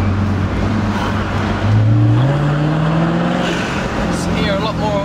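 A loud, deep engine growl from a Jaguar XKR with a Spires Stage 3 exhaust in dynamic mode rises in pitch as the car accelerates, a throaty exhaust rumble filling the whole stretch.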